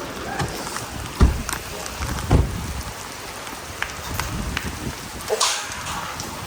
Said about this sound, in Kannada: ಮಳೆ ಬರ್ತಿದೆ ಗೈಸ್.